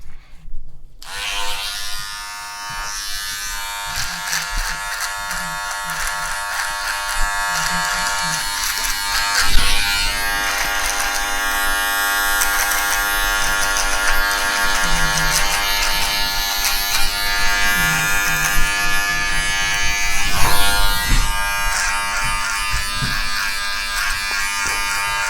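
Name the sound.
electric shaver shaving a client's neck and hairline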